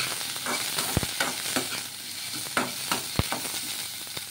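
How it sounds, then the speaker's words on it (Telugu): Tamarind and fresh coconut pieces are stirred in a cooking pan for a leftover-rice dosa preparation, giving repeated scraping strokes and soft sizzling at an irregular rhythm, close by with no voices. "ఇందులోకి కొంచెం చింతపండు, అలాగే పచ్చి కొబ్బరి ముక్కలు వేసేసుకుని ఒకసారి బాగా కలిపేసుకుందాము."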